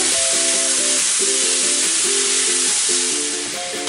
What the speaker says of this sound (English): now I'm just gonna give it a quick stir